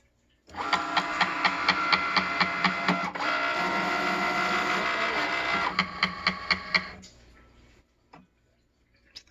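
A Cricut cutting machine cuts a layered vinyl sticker up close, giving rhythmic mechanical ticking pulses, then a steady whirring stretch, then more quick clicks before stopping.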